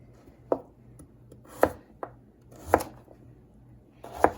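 A knife chops through rutabaga on a cutting board in five or six sharp, distinct thuds at an uneven pace, close and clear with little else around.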